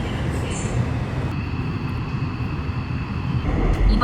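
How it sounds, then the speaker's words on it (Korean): A subway train pulls into a quiet weekday station in Seoul, a steady rumbling roar of wheels and motors with faint high screeching as it arrives close by. "제 열차가 들어오고 있습니다."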